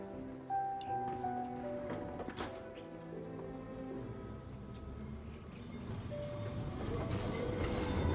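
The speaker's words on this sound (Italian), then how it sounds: "Il tram." A tram rolls past in the video game Syberia: The World Before, a rumbling rail sound that slowly grows louder. Squealing wheels and a rain-like hiss come with it, mixed with soft tonal game music, and no one speaks.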